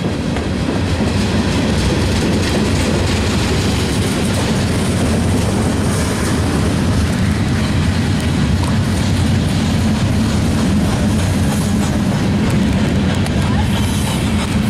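Westbound train passing at Chesterton, Indiana: a loud, continuous close rumble with steady clickety-clack of wheels over rails, lasting throughout without letup.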